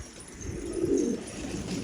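Pigeons, tumbler pigeons kept as pets, coo softly in a low, soft murmur that swells in the middle, close by, with no talk over them.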